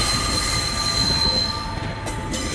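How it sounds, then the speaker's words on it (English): A class 142 Pacer diesel train rumbling close by at Manchester Piccadilly station with a sustained high metallic squeal from the wheels, loud and steady, fading slightly near the end. "Here is a class 142 Pacer train bound for Chester via Altrincham."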